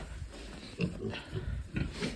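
A month-old piglet that has started biting gives short, close grunts and snorts in a few quick bursts while being handled.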